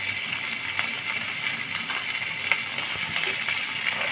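Spice paste of ginger, garlic, green chilli and salt frying in a pan for a fish and water spinach curry, giving a steady, close sizzle with faint scattered crackles and no talking.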